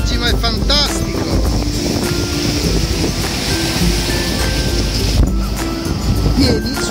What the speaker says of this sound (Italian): Sono un po' di onde oggi, ma è fantastico!